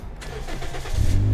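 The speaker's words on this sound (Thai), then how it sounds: "ดี๋ยวต้องเบนสตาร์ทให้ได้ยินเสียงเครื่องยนต์กัน" A Toyota Vios 1.5 engine cranks briefly and catches, settling into a deep, close rumble.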